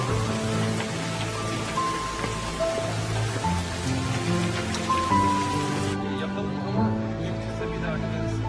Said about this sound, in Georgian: მანამდე კი წვიმაც გადაიღებს.